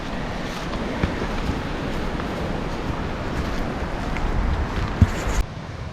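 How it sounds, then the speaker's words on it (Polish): Small waterfall along a route in Romania or Bulgaria, a steady broadband rush of falling water heard close and fairly loud throughout, blended with wind buffeting on the microphone and a few brief knocks near the end. "Bo tu jest jakiś mały wodospad."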